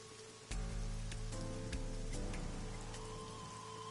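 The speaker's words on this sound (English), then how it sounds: "Parasol is getting pelted by rain." Rain pelting a parasol by a lonely merry-go-round in the video game AI Somnium Files, a dense soft hiss of drops with scattered sharper taps over a faint music bed, steady and quiet throughout.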